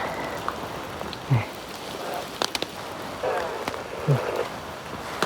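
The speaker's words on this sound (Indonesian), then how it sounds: "Masih hujan." Steady rain hiss fills a mountain trail on Gunung Karang, Banten, with scattered drops and a few brief knocks and bumps nearby; no one speaks.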